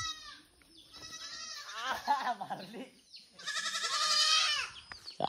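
Goats bleating at a house, several wavering cries close by, with a long loud bleat near the end after shorter calls and a quiet pause.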